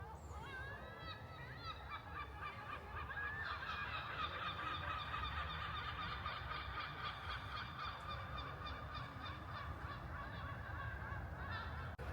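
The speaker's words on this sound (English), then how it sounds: "The seagulls are out in force." A dense flock of seagulls calls continuously across the grounds of Dunfermline Abbey, with overlapping squawks and cries at moderate distance over faint background murmur.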